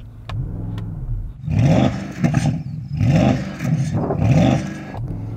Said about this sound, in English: Let's have a listen to your Porsche.